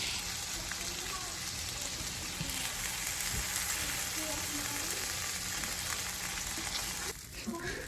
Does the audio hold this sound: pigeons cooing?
no